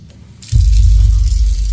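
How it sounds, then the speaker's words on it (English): A kitchen faucet suddenly switches on, and water gushes in a strong, steady stream close by, loud and continuous after a quiet start. "the faucet switches on by itself"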